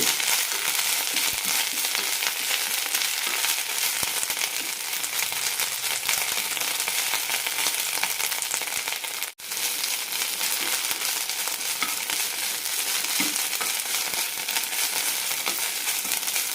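Mint leaves sauté in oil in a pan, giving a steady, close sizzle and crackle that runs throughout, with a brief dip partway and faint stirring scrapes, no voices.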